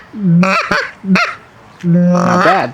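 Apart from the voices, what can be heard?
Haydell's Magnum Honker goose call being blown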